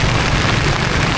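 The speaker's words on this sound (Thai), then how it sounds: "ฝนตกหนักแล้วทุกคนเลย" Heavy rain pours down on a trip through southern Laos waterfall country, a loud, unbroken wash of hiss and rumble close by, with no voices.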